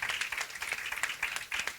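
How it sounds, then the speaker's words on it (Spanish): Audience in a church gathering applauding, a short burst of steady clapping heard faintly from a distance. "Podemos darle un aplauso al Señor por su palabra"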